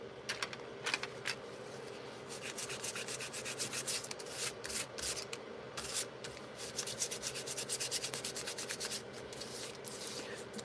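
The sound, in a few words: sanding structural paper pieces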